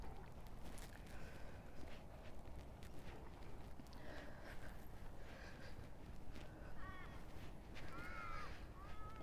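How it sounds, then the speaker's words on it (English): Crows caw in short, harsh bursts from a distance, clustered toward the end, over a steady outdoor background of footsteps and ambient noise by a lake in early morning. "We're hearing crows."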